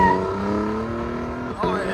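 A 2026 Toyota Tundra 1794 Edition with a 3.4L twin-turbo V6 and muffler delete, its exhaust droning steadily up close with a brief dip and rise near the end, while people talk over it.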